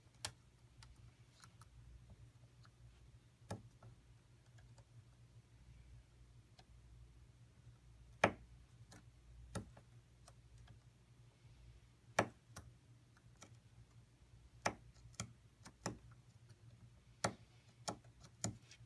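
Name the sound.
braille slate and stylus punching dots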